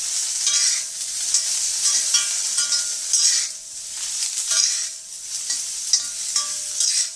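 Sliced okra (bhindi) frying in a pan with salt, a continuous soft sizzle broken by repeated scraping strokes of a spatula stirring it, close and steady with no talk.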